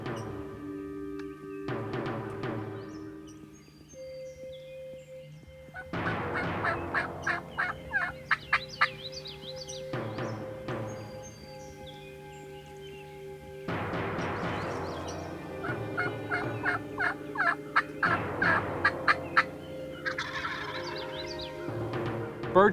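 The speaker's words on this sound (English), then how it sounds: "Birds pitched out, birds gobbled." Wild turkeys gobbling at a hunt, several loud rattling gobbles in repeated bursts, some close and others answering farther off, with no talking in between.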